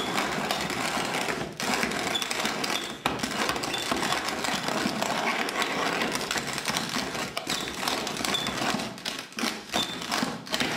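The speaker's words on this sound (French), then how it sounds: "Broyer du maïs. Ce n'est pas facile. C'est une graine super dure." Hard dried maize kernels being ground into coarse meal for homemade bird food, giving a steady, dense rasping and crunching with irregular taps and knocks throughout, fairly loud and close, with no talking.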